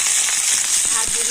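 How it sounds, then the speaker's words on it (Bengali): Ivy gourd (kundri) hitting hot oil sets off a loud, close, steady hiss and crackle, with a few sharper pops and spatters over the continuous sizzle. "তো তেল গরম হয়ে গিয়েছে, তো তেলের উপরে আমি দিয়ে দেবো কুঁদরি।"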